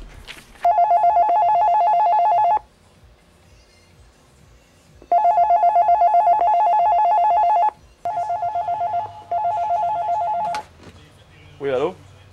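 A telephone rings in a short film scene: loud, close electronic ring bursts come in three long spells separated by brief pauses, and a short voice is heard at the end.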